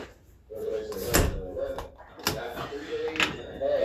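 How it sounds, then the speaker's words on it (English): An indoor door is pushed shut with a few dull knocks and thuds spread over several seconds, while faint background voices continue. "Hold on, let me close this door all the way."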